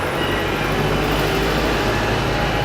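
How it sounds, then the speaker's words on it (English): A London bus on Oxford Street rumbles past close by, a loud, continuous engine drone and road roar filling the whole moment with no talking. "No, it's this bus."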